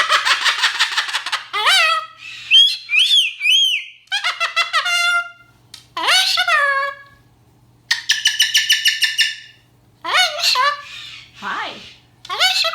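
A pet bird squawks and chirps in loud, close bursts of harsh calls and rapid trills, separated by brief quiet gaps, with no talking heard.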